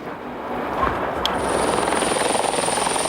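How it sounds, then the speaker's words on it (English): Rescue helicopter landing with flood refugees, a loud close rotor thump and turbine whine building to a steady rapid chop. "Like clockwork, every 5 minutes a helicopter lands, bringing refugees from the flood"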